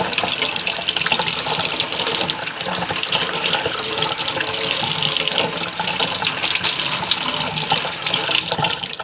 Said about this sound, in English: let's start putting cold water on Scrub Daddy